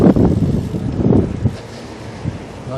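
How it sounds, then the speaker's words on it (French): Wind buffets the microphone during a bike ride in Toulouse, a loud, uneven rumbling gust noise with irregular swells throughout and no voices. "c'est parti, un peu de vent"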